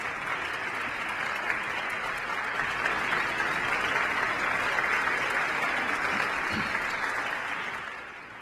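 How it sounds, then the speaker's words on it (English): A church congregation at Sunday Mass applauding a parishioner, steady full clapping from many people in a reverberant hall, tapering off near the end. "Why don't you just stand up and give her an applause?"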